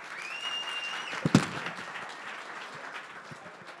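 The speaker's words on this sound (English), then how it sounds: "warm round of applause for Action Zone Video" An audience at a startup event at Atlanta Tech Village gives a fairly quiet round of applause, with a faint tonal whine at the start and a sharp thump partway through.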